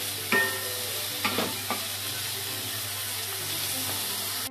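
Mushroom stems sauté in a pan over high heat, a steady close sizzle carrying throughout, broken by a few scraping stirs of the utensil near the start.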